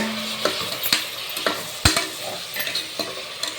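Three medium tomatoes sauté in a pan, sizzling softly as a utensil stirs and scrapes in regular taps and knocks, one sharper clank standing out partway through.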